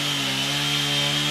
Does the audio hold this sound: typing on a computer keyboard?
no